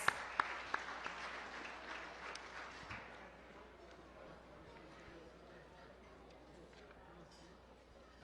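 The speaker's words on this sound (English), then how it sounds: "Please give them a warm round of applause." Applause at an anniversary gala banquet for award recipients opens with a few sharp claps, then fades into a quieter wash of scattered clapping and room murmur.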